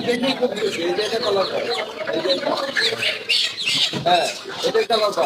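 Sonali-breed chickens at a market cluck and squawk continuously and fairly close, mixed with people talking over them.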